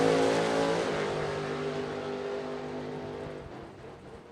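Drag race door car engine at a drag strip staging, loud rough drone that fades and sputters unevenly as if running out of gas, with no voices.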